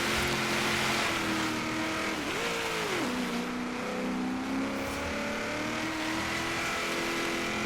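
Nissan Titan truck built for offroad driving in Forza Horizon 3, its engine droning steadily and loud throughout, with a brief rise and dip in pitch as the gears shift.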